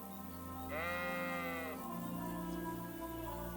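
A sheep bleats once in the video game Kingdom Come: Deliverance 2, a clear wavering cry over a steady low ambient hum.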